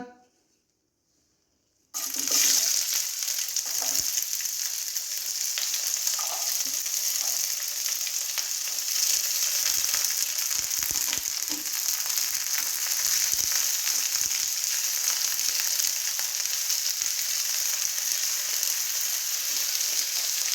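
Onion, tomato, ginger and garlic hit hot ghee and refined oil with a sudden loud sizzle that settles into a steady, dense frying hiss, with occasional faint clinks from the pan and no talking.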